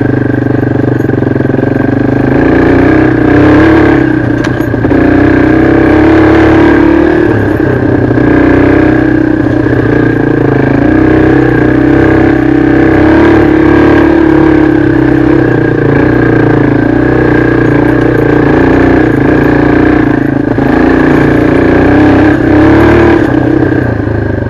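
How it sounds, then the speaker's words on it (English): A Yamaha XT225 dual-sport motorcycle ridden through a forest, its single-cylinder engine droning loudly and continuously with gentle rises and falls in revs and no pauses. "I bought this XT225 because I'd heard they were just really good little woods bikes."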